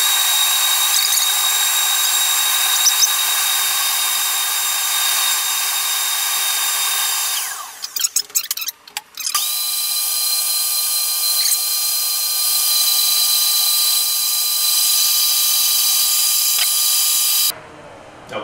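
An NRE flow bench runs at 28 inches of pull with a loud, steady high whine. It dips briefly about halfway through, rises again and holds until it cuts off near the end.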